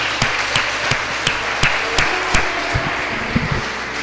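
Scattered hand claps from a church congregation, a handful of separate sharp claps at an uneven, roughly half-second spacing, fairly close with a steady murmuring background and no talk.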